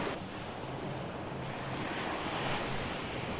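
Ocean surf washing around a wader at a Celebration Key beach, a steady broadband rush of breaking waves mixed with wind buffeting the microphone, continuous and close throughout with no talking.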